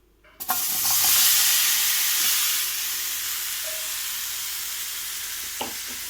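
Chopped tomatoes dropped into a hot pan for paneer curry, breaking into a sudden loud hissing sizzle that stays steady and slowly eases, with a faint clink of a utensil.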